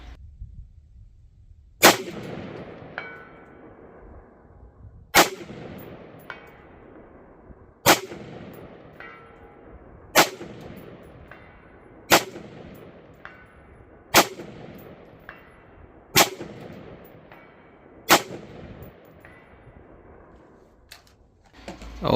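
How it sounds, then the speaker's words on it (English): Rifle shots fired at a 300-yard target through a CVLIFE Eagle Feather 1-8x24 scope, nine sharp, loud cracks spaced a few seconds apart, each followed by a long rolling echo across open ground. "here's a few quick shots at 300"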